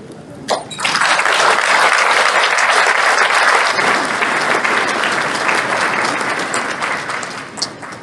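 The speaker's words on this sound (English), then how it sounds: "Once again, a round of applause for President Franklin" Sustained applause from a large audience at an awards banquet, rising quickly and holding steady before tapering slightly near the end.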